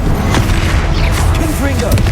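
An Expelliarmus spell is cast in Hogwarts Legacy, a dense, loud burst of booming magical impact with rumbling low end and whooshing effects layered together over a short moment.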